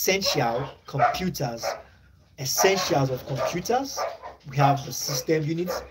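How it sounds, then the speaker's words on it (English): A neighbouring dog barks in the background, mostly masked by a man lecturing on computer hardware, with short bursts poking through between his phrases. "from a neighboring dog making a noise"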